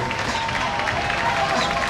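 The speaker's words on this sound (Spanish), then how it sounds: "Un aplauso para Félix Clement" A crowd applauds at a basketball dunk show in Valencia, giving steady dense clapping that fills the whole moment at a fairly loud, even level.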